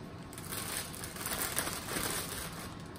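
A large gallon-size plastic bag is handled up close, giving a continuous loud crinkling and crumpling rustle with no pauses.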